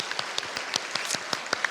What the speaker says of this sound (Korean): 지금까지 인도해 주신 하나님께 감사의 박수 우리 할게요